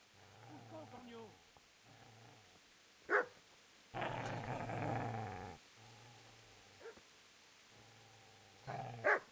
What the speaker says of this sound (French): J'entends un chien aboyer.